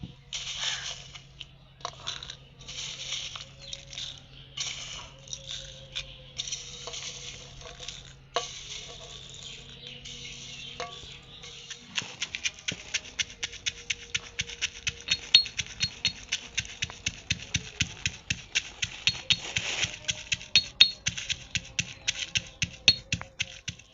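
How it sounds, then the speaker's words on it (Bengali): Dried chillies and cumin pounded in a small mortar and pestle: irregular scraping and grinding at first, then a fast, steady run of sharp, rhythmic thumps growing louder toward the end. "এবার ছোট্ট একটা হামাদাস্তা নিয়েছি এর মধ্যে আমি গুঁড়ো করে নেবো"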